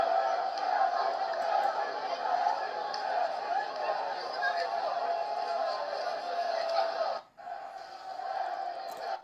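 A big crowd gathered to await Lukaku's arrival sends up a steady wash of chatter and calls, dropping briefly near the end before the babble continues.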